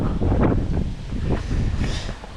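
Gusty wind buffets the microphone outdoors, a steady rough roar with a few stronger surges, close and moderately loud.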